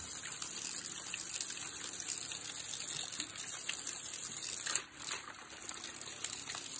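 A water current flows steadily, a continuous rushing and gurgling wash close by, with a brief dip and splash partway through before the flow resumes at an even level.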